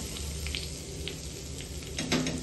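Bell pepper, carrot and capsicum sauté in a pan with garlic, giving a soft, steady sizzle with a few light crackles and stirring sounds, fairly quiet and close.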